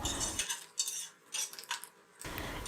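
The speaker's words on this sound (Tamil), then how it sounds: "முந்திரி பருப்பு வறுபடும் போது தேங்காய் இன்னுமே வறுபட்டுரும்" Cashews and grated coconut roast in ghee in a pan while a spoon stirs them. Faint, intermittent scraping and clinking of metal on the pan is separated by short quiet gaps.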